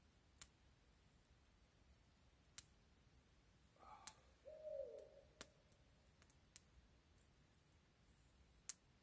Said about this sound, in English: Hear that owl?